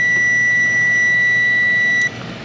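A protection relay on a bench power supply beeps as it trips, a steady piercing electronic tone lasting about two seconds over a low hum before cutting off abruptly.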